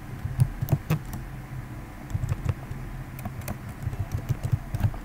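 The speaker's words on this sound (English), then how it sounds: "type your text" Typing on a computer keyboard: clusters of quick, close keystrokes in short bursts separated by brief pauses, with a faint steady hum underneath and no voices.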